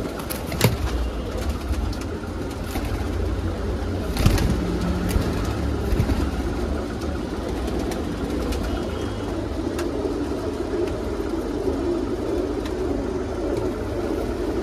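Purebred Punjabi Madrasi pigeons coo continuously at close range, with soft throaty calls, occasional wing flutters and clicks, and a faint low background hum.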